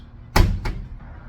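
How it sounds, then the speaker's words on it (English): A door fitted with an adjustable closer swings shut and latches with a solid thud, then a second lighter knock follows a fraction of a second later, close and fairly loud. "I'm going to make the adjustment to the hole closest to the latch to fix the latching speed of the door."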